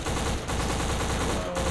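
Rapid, unbroken AK rifle fire from the first-person shooter game Black, a loud continuous automatic stream with two brief dips in the burst.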